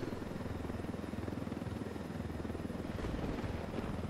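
A helicopter from the video game Ghost Recon Wildlands thrums steadily with a rhythmic rotor chop and a constant low engine drone, moderately loud and unbroken, with no talk over it.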